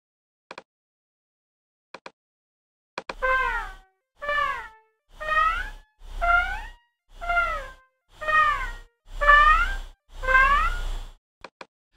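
Notation-software playback of eight jazz falloff notes, each sliding downward in pitch as it fades, evenly spaced, with a few soft clicks before and after.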